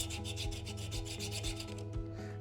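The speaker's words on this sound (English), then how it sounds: "This is 220 sandpaper, by the way." A wooden skateboard-deck comb is rubbed with 220-grit sandpaper, steady rhythmic rasping strokes about twice a second, close and fairly quiet, with no talking.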